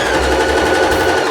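A Riccar H30E computerized sewing machine stitches slightly stretchy fabric with a loud, fast and steady mechanical whir that runs without a break.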